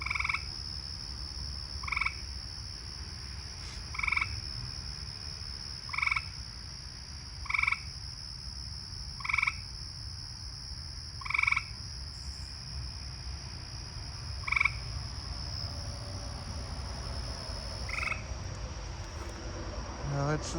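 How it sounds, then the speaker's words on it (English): An eastern gray tree frog gives short trilling calls about every two seconds, fairly faint and a little distant. They stand out over a steady high whine of insects on a quiet night. "Oh, there's the eastern gray tree frog."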